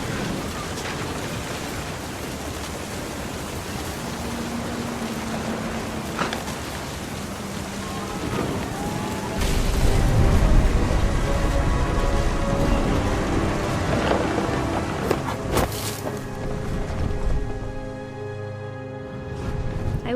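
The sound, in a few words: thunder and rain in the video game What Remains of Edith Finch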